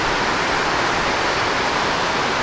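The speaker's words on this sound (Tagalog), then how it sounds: "Dito bumabagsak ang tubig sa amin." Heavy water pours down steadily where a blocked drain overflows, a dense, loud, unbroken rushing roar that lasts throughout with no other sounds.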